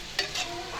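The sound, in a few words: mutton and onions frying and being stirred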